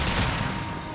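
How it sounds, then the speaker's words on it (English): A concussive shot fires in the Mass Effect 2 video game, a dense, sustained burst of gunfire-like combat noise filling the whole second, loud and close with no voices over it. "Firing concussive shot!"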